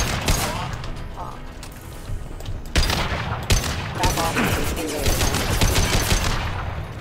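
A newly acquired gun fires in the Mass Effect 2 game, bursts of rapid shots in two or three volleys over steady combat noise, fairly loud and close.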